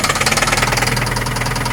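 Rod knock from a barn-find Honda Civic engine after track laps, a loud, steady rapid metallic knocking pulsing over the running engine at close range.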